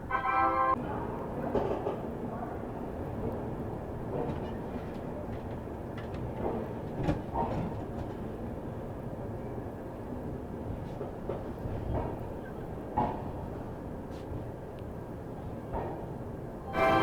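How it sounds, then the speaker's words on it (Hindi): Prayagraj Express passenger train pulling into Kanpur Central railway station, a steady rumbling rolling noise with scattered clacks and clunks throughout, fairly close and continuous, with a faint voice briefly in the background. "अपनी प्रयागराज एक्सप्रेस आ चुकी है अपने दूसरे halt Kanpur central railway station पर"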